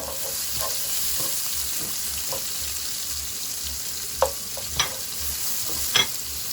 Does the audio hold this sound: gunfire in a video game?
no